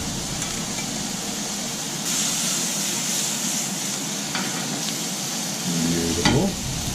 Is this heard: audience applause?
no